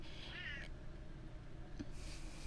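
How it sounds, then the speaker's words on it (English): A pet cat gives a faint, drawn-out meow followed by a quieter second call, heard indoors at a distance against low room noise with no talking. "Sorry, my cat, you guys. She's like, meow, meow."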